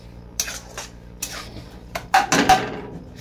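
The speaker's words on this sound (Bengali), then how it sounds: "নারকেল কুড়াটাকে এইভাবে কষে নেবো।" Grated coconut being stirred and sautéed in a pan while cooking patishapta, heard as scattered scraping and clinking strokes of a spoon against the metal pan, a few louder clatters near the end, with no talking.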